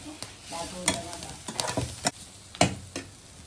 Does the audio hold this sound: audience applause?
no